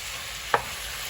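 Ground meat (giniling) fries under a constant sizzle, with a single brief scrape of a spatula stirring it midway.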